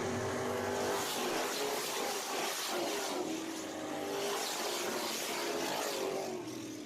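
Race cars roar around the dirt oval at Deep South Speedway in Alabama, engines droning loud and continuous as the pack passes, with revving swells and no voices audible.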